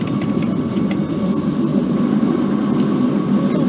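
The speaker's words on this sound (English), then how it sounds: "Compressor there working." Air compressor of a train in the OpenBVE railway simulator game, running as a steady low mechanical drone that holds evenly throughout with no talking.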